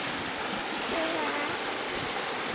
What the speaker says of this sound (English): now the stove is starting to prime up. You can probably hear it.